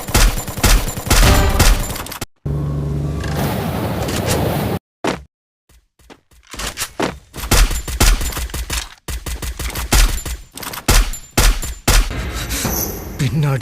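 Gunfire in the Free Fire video game comes from behind the player, loud bursts of rapid shots broken by short silences and a stretch of other game noise.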